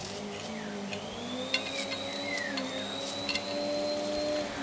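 A vacuum cleaner motor whirs steadily with a whining, shifting tone, drawing power through an arcing fluorescent light setup, with a few faint clicks along the way.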